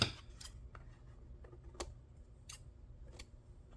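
Scissors snip craft strings on a box project, several crisp, quiet cuts spaced about a second apart over a soft background hum.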